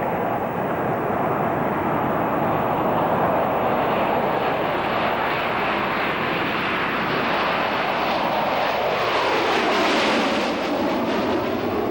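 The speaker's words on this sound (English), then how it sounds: "What was needed was this unbelievable aircraft. The B-2 stealth bomber." A B-2 stealth bomber flies overhead with a loud, continuous broadband jet roar that swells and shifts in pitch as it passes, alone with no talking.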